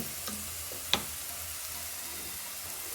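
Boiled, salted elephant foot yam dropped into hot oil in a pan for a quick stir-fry, giving a steady soft sizzle with one sharp splash-pop near the start, then a continuous gentle frying hiss.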